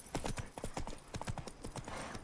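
Brisk hoofbeats from a galloping horse in The Witcher 3: Blood and Wine, a short run of sharp clip-clop strikes in quick rhythm, close and clear with no talk.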